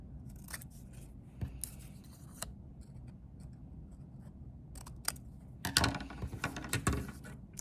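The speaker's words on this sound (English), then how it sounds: "I can just take my scissors and basically cut this way as one line" Scissors cutting paper for a 3D dragonfly craft, close crisp snips and rustles, scattered at first and then a quicker burst of cuts near the end, with no voice.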